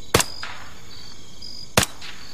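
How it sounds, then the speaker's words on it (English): Two sharp, loud gunshots from Arma 3 ring out alone about one and a half seconds apart, each trailing a brief echo across a quiet backdrop. "Firing."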